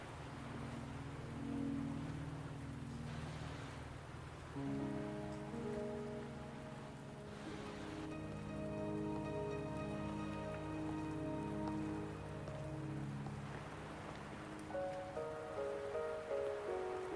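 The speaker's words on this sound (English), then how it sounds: "Are you trapped here by the rain?" Steady rain falls in the video game Wuthering Waves, an even patter of drops running beneath sustained musical tones throughout.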